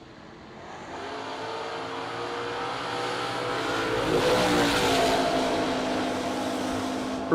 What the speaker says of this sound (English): rick Roundtree, Chapel Hill, North Carolina, the 69 Camaro.